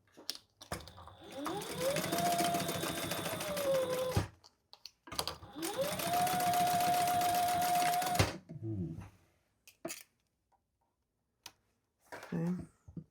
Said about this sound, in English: just baste it in place